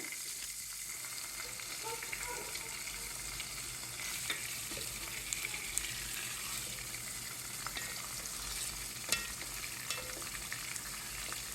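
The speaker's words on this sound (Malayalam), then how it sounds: "മീനിതാ പൊരിഞ്ഞ് വന്നിട്ടുണ്ട്" Fish pieces fry in oil in a pan, a faint, steady sizzle and crackle with occasional light pops, heard alone without talking.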